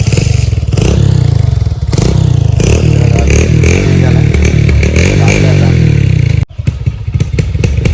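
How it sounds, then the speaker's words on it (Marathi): A motorcycle engine runs loud and close, chugging steadily with a few rises in revs, briefly cutting out near the end before rumbling again. "मी बाईक चालू करतोय"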